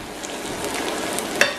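Onion soup mixture sizzling in a large pan for oxtail gravy, a steady crackling fry close by with light stirring scrapes and a brief clink near the end.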